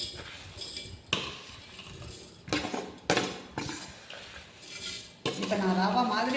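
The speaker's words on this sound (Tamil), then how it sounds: "இப்போ நாம் ஜாரில் கொட்டிக்கலாம்." Cooled cooked rice and dal tipped into a steel mixer jar, with repeated metallic clinks and scrapes of a spoon against the jar and pots in a few bursts, close and moderately loud.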